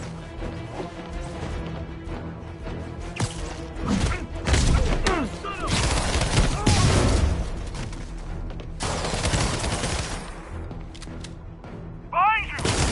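Gunfire and impacts in the video game Marvel's Spider-Man, loud thudding shots and crashes scattered through the scene amid game voices and effects.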